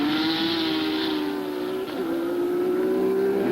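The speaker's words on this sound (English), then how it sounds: "You heard the wheel spin there." Open-wheel race car at Mid-Ohio in a 1990 American Racing Series event, its engine holding a loud, steady high-pitched howl close by with a brief stumble as the wheels spin, no talking.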